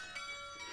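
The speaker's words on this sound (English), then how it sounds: "6 bells that are rung in the same way as those in churches and cathedrals" A portable chamber ring of six change-ringing bells, hung and rung like church bells, gives a brief sustained metallic ringing with a couple of soft strikes over lingering tones.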